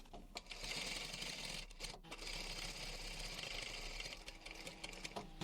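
Sewing machine stitching an upholstery box cushion cover, running in a fast, steady, close mechanical whir with brief pauses and a short stop near the middle, no talking.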